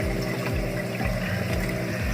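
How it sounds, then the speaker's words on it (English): A Mag 7 return pump hums steadily in a DIY 55-gallon Aqueon aquarium sump, with a constant low drone and rushing, gurgling water flowing continuously around it. "this is the Mag 7 return pump"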